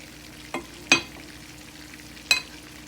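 Onions, garlic and fresh thyme frying in a pan, a low steady sizzle broken by three brief utensil scrapes or clacks, close by and fairly quiet.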